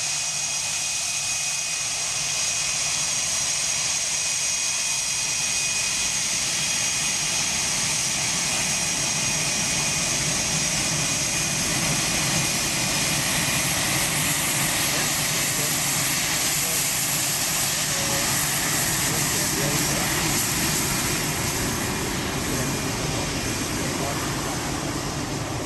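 Aircraft engines close by, a loud, continuous broadband roar with a high whine that holds steady across the whole stretch without fading.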